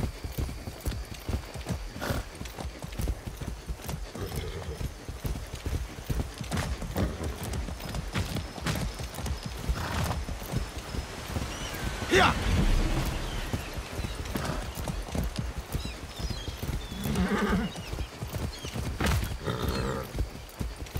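Horse hooves clip-clop steadily in Far Cry 6, a continuous rhythmic stream of loud, close hoofbeats over game ambience, with a few louder thumps and faint voices in the background.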